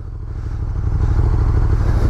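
A KTM 1290 Super Duke engine runs with a steady, deep pulsing rumble before an Autobahn top-speed run, holding close and even with a slight rise in intensity partway through.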